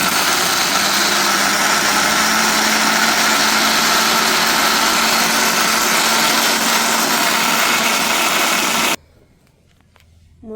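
A kitchen mixer grinder grinds coriander, cumin and other spices into masala, running as a loud, steady, high-pitched whir for about nine seconds before it cuts off abruptly into quiet.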